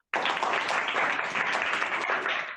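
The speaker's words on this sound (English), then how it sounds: "Let's give them a clap." Applause from a group at a school-style education event, a dense steady burst of clapping that starts abruptly and carries on evenly, fading slightly at the end.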